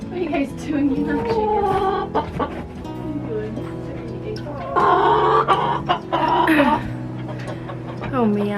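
Chickens cluck and chatter nearby in a continuous jumble, with two roosters' louder calls rising partway through; no clear talk over them.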